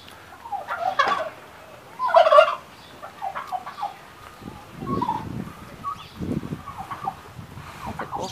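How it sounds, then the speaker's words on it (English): Turkey at a zoo gobbling in several short bursts, with quieter clucks and rustles between, moderately near and with no talk over it. "Oh, turkey's talking."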